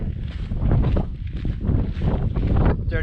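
Steady, heavy wind buffeting the microphone on a snowy mountain trail in Rocky Mountain National Park, a constant low roar with gusty swells throughout and no voices.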